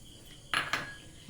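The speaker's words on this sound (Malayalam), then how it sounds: "ഈ തരി ഞാൻ ഈ പാത്രത്തിലേക്ക് ഇടുന്നു." Coarsely ground ginger is dropped into a vessel while making Kerala inji curry, giving two quick metallic clinks in close succession against a quiet kitchen background.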